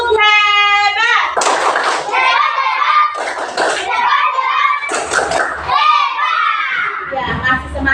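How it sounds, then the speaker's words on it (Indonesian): A group of children chant "tepuk hebat" and clap together in bursts of rhythmic claps, loud and close, with voices shouting between the rounds. "Sekali lagi, tepuk hebat."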